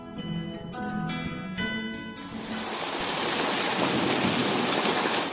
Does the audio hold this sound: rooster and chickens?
no